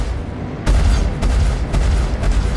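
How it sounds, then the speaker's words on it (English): Missile strikes on a ship in Star Citizen, a series of heavy, close booming blasts about every half second to second over a continuous loud rumbling bed. "Missile to the face."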